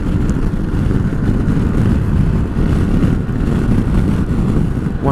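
A SYM GTS125 125cc scooter runs flat out at full throttle at top speed, its engine drone steady and continuous beneath heavy wind rush, with no pauses.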